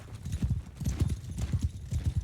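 Horse hooves in Mount & Blade II: Bannerlord, a rapid galloping clip-clop close by, repeating in quick rhythmic bursts with no talking.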